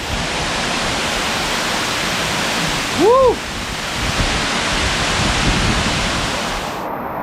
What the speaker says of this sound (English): A little bit of water coming through the cave